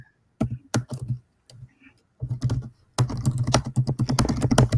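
Someone hammers hard on a computer keyboard in rapid, uneven bursts of loud clacking keystrokes, growing denser and more frantic toward the end, close and with no speech.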